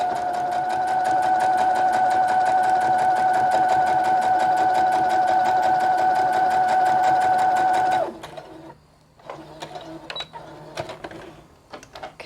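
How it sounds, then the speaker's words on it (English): A sewing machine stitches a second row along a doll backpack, running loud, close and steady with a fast, even rhythm and a humming motor tone for about eight seconds, then stopping abruptly, followed by soft clicks and handling noises. "now you're going to do another row of stitching about 1/4 of an inch from the original"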